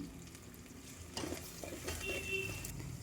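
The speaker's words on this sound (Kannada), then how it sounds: "ಆ್ಯಡ್ ಮಾಡಿಕೊಂಡು ಸ್ವಲ್ಪ ಕೊತ್ತಂಬರಿನ ಸೇರಿಸ್ಕೊಂಡು ಚೆನ್ನಾಗಿ ಫ್ರೈ ಮಾಡ್ಕೊತಿದ್ದೀನಿ" Onions, green chillies and coriander frying in a pan for upma, a soft steady sizzle with occasional scraping stirs, close and moderately quiet, no talking.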